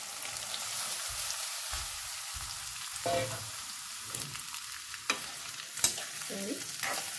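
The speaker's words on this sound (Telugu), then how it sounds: "ఆకాకరకాయని బాగా ఫ్రై చేసుకోవాలి." Spiny gourd pieces fry in about five tablespoons of oil in a kadai over medium flame, a steady soft sizzle broken by intermittent scraping stirs and a few sharp clinks.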